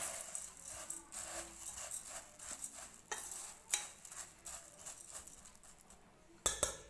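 Jhal muri, a puffed rice snack, is tossed and stirred in a bowl, giving a rhythmic dry rustle and light rattle. Sharper clinks of the utensil against the bowl stand out near the end.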